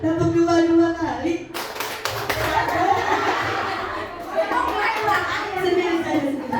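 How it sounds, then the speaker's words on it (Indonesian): A classroom of children clap twice together as part of a teacher-led clapping game, sharp bursts rising over a noisy room with children's chatter and someone talking before it. "Tepuk 2 kali."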